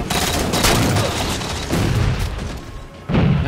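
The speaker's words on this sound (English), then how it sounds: "I don't know how that grenade didn't kill." A grenade blows up during a Halo 4 multiplayer match, one of several loud, close booms that sound against a dense clatter of gunfire.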